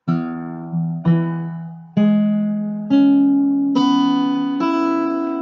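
Six strums of an E6 guitar chord, one at a time, each ringing out and slowly decaying before the next, played alone.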